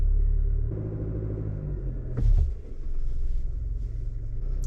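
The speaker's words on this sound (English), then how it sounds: "just slowly go over this mound of dirt" A Chevrolet ZR2 pickup truck crawls slowly over a mound of dirt, its engine a steady low rumble close by, with a brief scraping thump midway as the underbody meets the ground, and no talking.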